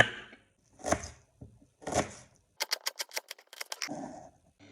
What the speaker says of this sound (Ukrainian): Наріжемо кубиками цибульку